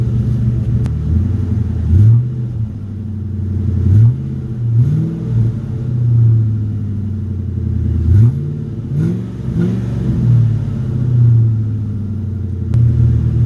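A 2009 Ford F350 pickup engine with a new exhaust idles with a deep, throaty burble, revving briefly several times in short bursts before settling back to a steady rumble.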